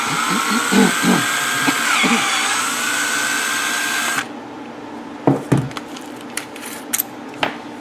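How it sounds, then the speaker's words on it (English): A power drill bores at a slight angle into a web during a Honda EU7000iS generator fuel-kit install. It gives a loud, steady whine for about four seconds, then stops abruptly, followed by a few scattered knocks and clicks. "I'm drilling at a slight angle so it'll cut into that web."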